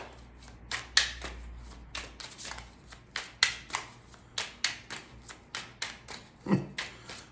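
Tarot cards shuffled and drawn by hand, a rhythmic series of crisp riffling flicks and taps about twice a second, close and fairly loud, with no talking.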